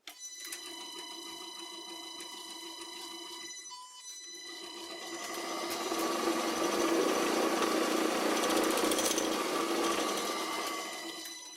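A vintage bench lathe runs with a rattly motor that has been rewired to a star configuration, a steady droning whine with mechanical clatter that grows louder and rougher midway, then eases slightly.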